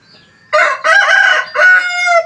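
A young Thai fighting rooster, about ten months old, lets out a single loud, close crow in several drawn-out segments after a moment of quiet.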